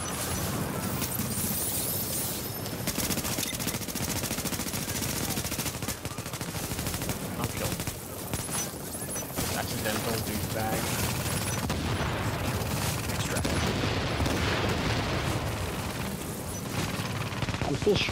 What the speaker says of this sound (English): Shooting the NPCs and they're shooting me.